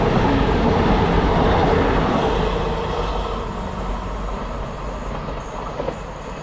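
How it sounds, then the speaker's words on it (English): A Cross Country Voyager train from Edinburgh to Cardiff rushes through a British station, a loud rumbling roar that slowly fades as it passes, with faint rail clatter near the end and no speech. "Just going through now is the cross country Voyager from Edinburgh to Cardiff."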